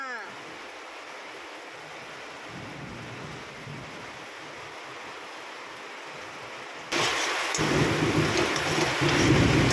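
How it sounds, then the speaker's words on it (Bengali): An egg frying in a pan before chow mein is made, a continuous broadband sizzle that jumps louder partway through, close and steady. "আগে ডিমটা ভেজে নেওয়া হচ্ছে, ডিমটা ভেজে নিয়ে চাউমিনটা করবো।"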